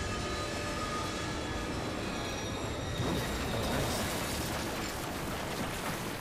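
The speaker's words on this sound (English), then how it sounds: "Oh god, train!" In the video game The Darkness 2, a train roars past, a loud, broad rushing clatter with a metallic whine that swells around the middle of the short burst.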